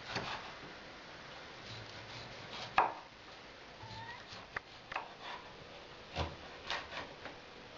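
Faint, irregular knife cuts tap against a cutting board as smoked bacon is cut into small pieces, with a few sharper knocks scattered among quieter slicing sounds.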